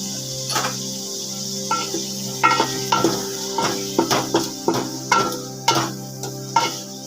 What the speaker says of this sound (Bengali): এবার একটু মশলাটাকে আমি ভালো করে কষিয়ে নেব